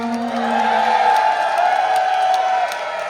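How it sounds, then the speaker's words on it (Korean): At a kindergarten year-end recital, parents and children clap and cheer in a loud, sustained wave of crowd noise with raised voices held steady for about three seconds before easing slightly. "박수 함성"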